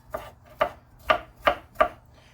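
Knife chopping garlic on a board, five crisp, evenly spaced chops, close and clear against a quiet background.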